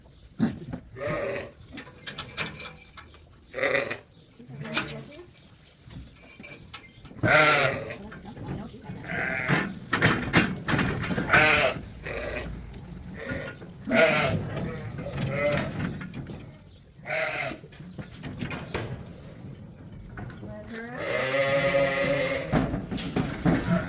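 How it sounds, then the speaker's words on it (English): Sheep on a farm bleat repeatedly over about twenty seconds, several animals calling in overlapping bursts at varying distances, with a long loud bleat near the end and some handling noise between calls. "the group of sheep going out to pasture"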